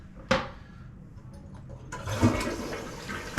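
A toilet with a self-closing lid and seat in a renovated vintage bathroom: a sharp clunk of the handle, a short pause, then a loud, rushing flush that carries on to the end.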